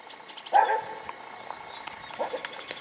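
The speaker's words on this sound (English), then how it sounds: "If one dog starts barking, sometimes she'll start barking with them." A young dog barks at about 31 weeks old, giving one sharp nearby bark followed by a few softer yips and small barks over a quiet background.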